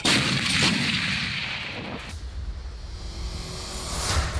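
A powerful artillery blast with a deep, rolling boom that decays slowly, then another sharp report near the end.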